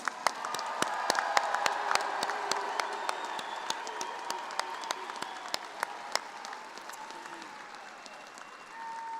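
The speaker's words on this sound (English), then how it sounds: "One more round of applause for the 2025 College of Education graduates." A commencement crowd applauds the College of Education graduates, a broad roomy wash of clapping that peaks early then gradually thins, with a few sharp nearby claps standing out.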